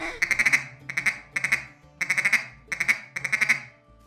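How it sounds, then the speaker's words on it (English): Ducks calling as they fly overhead, giving a gaveling feed call: six quick bursts of rapid, raspy quacks, each burst a short run of notes in a steady rolling rhythm, fairly close and clear with no talking. "Think about whenever you're on the ground and you hear ducks flying over."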